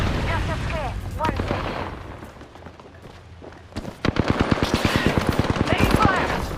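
Apex Legends gunfire: scattered shots and game effects at first, then a dense run of rapid automatic fire, loud and close, with game voice lines mixed in.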